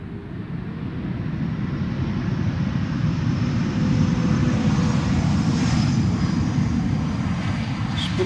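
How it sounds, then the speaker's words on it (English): An Embraer E2 airliner passes at Schiphol Airport, a steady broadband jet roar that stays loud and sustained throughout, swelling slightly toward the middle with a faint high whine on top. "Another E2 Embraer."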